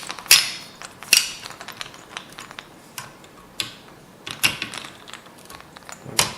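Screws being tightened in a cross pattern on a Ryzen 3 1200 test bench build, a series of sharp clicking and ratcheting ticks from a screwdriver at irregular intervals, close and distinct.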